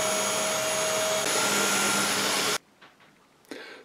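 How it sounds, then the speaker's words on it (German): A power drill boring holes into a wooden Japanese saw hand-guide jig, running loud and continuous for a couple of seconds, then stopping, followed by a few faint handling knocks. "Und bohren jetzt hier die 3 Löcher rein."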